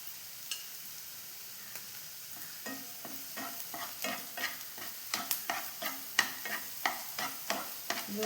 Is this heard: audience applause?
no